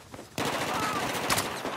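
A machine gun, the so-called Rambo gun, fires a sustained rapid burst in Battlefield 4, starting abruptly and rattling loudly to the end after a quieter opening.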